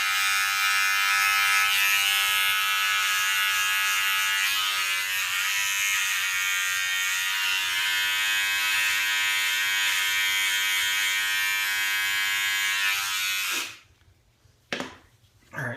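A cheap electric hair trimmer buzzes steadily and close while cutting hair, a high, even hum that runs for more than ten seconds and then cuts off, followed by a brief restart.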